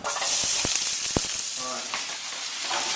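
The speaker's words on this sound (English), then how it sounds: "olive oil. In. Start roasting those vegetables off." Chopped vegetables including celery hit hot olive oil in a pan for a roast leg of lamb, a loud, bright sizzle with a few sharp clanks and stirring scrapes, easing into a steady fry.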